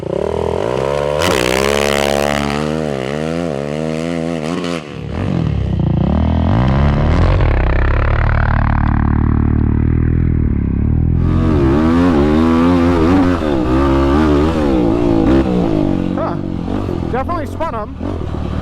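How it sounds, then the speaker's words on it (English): A quad ATV on Obor Advent tires launches on loose, whooped-out sand, its engine revving hard and climbing in pitch, dropping off, then roaring again up close. "We're going to do just a little launch on the sand."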